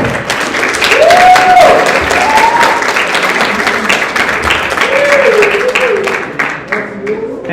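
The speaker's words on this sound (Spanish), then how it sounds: "Recibamos un fuerte aplauso, por favor." An audience applauds loudly at a writers' panel during an inauguration event, with sustained clapping from a crowd in a room and voices talking faintly beneath it.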